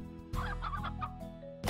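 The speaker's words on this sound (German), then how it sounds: "Wir machen eine Hühner-Ranch." Chickens cluck in the Slime Rancher video game: several short clucking bursts over a steady tonal background hum, with a louder cluck at the very end.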